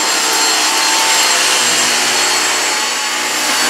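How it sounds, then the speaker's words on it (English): A Dyson V6 cordless vacuum cleaner sucks up spilled flour and rolled oats, making a loud, close, steady high-pitched whine with a rough rushing edge throughout. "I'm going to attempt to clean the rest of this up using the Dyson V6"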